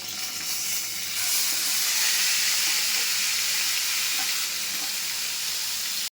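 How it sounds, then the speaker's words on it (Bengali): Onion frying in hot oil with cumin seeds gives a loud, steady sizzle that stays dense and even throughout, with no voices over it. "পেঁয়াজটা লাল লাল করে ভাজা হয়ে গেছে"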